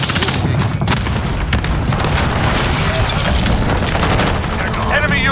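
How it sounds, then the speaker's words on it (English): An incoming cruise missile explodes in Call of Duty Modern Warfare amid continuous heavy booms and gunfire, loud and dense throughout, with game voice chatter running underneath. "Enemy cruise missile incoming!"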